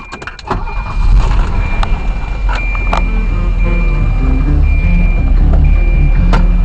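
A 1988 Volvo 780 car engine cranks with a few clicks, catches and settles into a steady, smooth idle hum, heard close up with no talking.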